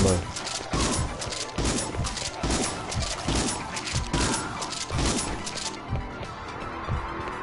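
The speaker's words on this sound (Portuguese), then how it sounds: "mais uma bomba" A bomb detonates in the video game It Came from Space and Ate Our Brains: a series of loud, crashing blasts at a fairly regular pace over busy game sound, with a voice heard amid the noise.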